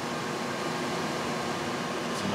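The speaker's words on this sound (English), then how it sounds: "As you can hear, the air conditioning is in operation." Air conditioning running inside the cabin of a Jeanneau 54 yacht, a steady, even broadband hum and hiss that stays constant throughout with no talk.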